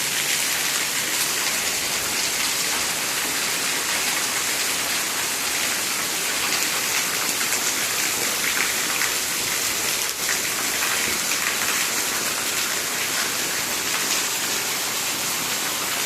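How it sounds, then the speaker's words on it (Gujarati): Heavy rain pours down in a steady, unbroken roar of drops on surfaces, loud and close, with no voices over it. "આજે આપણે કેવો વરસાદ પડે છે."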